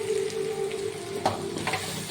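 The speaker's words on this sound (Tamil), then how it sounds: "இது எல்லாத்தையுமே நல்லா வந்து வதக்குறோம்." Onions, salt and other Chettinad chicken gravy ingredients sautéing in a pan, with a steady soft sizzle, a few light stirring clinks and scrapes throughout, no talking.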